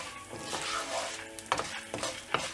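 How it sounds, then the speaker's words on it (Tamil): Urad dal and red chillies fry in hot oil for coriander thuvaiyal, a steady close sizzle broken by a few sharp scraping stirs of a spoon against the pan. "உளுத்தம் பருப்பு ஃப்ரை ஆகிட்டு இருக்கும்போது இதில் மிளகா ஆட் பண்ணிவிட்டு"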